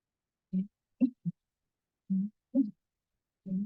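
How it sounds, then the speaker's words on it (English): A recording of a bittern plays its deep, hollow booming call, repeated as about six low pulses in short groups, clear and alone against silence. "So Denise and David got this great photo of a bittern posing, but this is normally what you hear"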